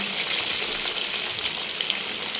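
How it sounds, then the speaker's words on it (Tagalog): Garlic sautés in hot oil with a loud, dense, steady sizzle that holds unbroken from start to finish, close and without any talking over it. "Painit ng mantika at igisa na ang mga bawang."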